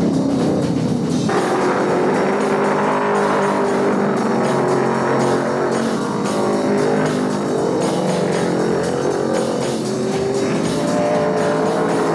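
Ford and Mopar stock cars racing flat-out at Martinsville in the 1971 Virginia 500, engines roaring loud and continuous through the whole stretch with no pauses.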